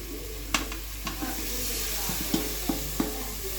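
Chili powder, coriander powder and garam masala sizzle as they are sautéed in a pan for egg noodles, with a steady frying hiss broken by several sharp spoon scrapes and taps against the pan.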